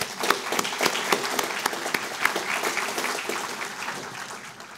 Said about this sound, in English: So I'm going to applaud Bill.